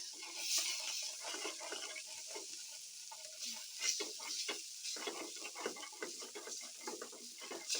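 Maggi instant noodles with masala are stirred in a hot pan, with irregular scraping and tossing strokes over a soft, steady sizzle, close by and with no talking.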